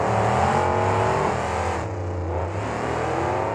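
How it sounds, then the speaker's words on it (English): Monster truck engines roar through zoomie exhaust pipes at a KORR Monsters 2009 race in El Paso, Texas: a loud, continuous, droning engine howl with no break. "You can hear how loud those zoomies are on Doggone Crazy."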